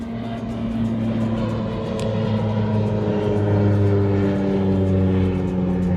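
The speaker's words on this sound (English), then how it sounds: "Sorry about the airplane." Steady droning hum of an airplane passing overhead outdoors, a continuous low tonal rumble holding at an even loudness for several seconds with no voices.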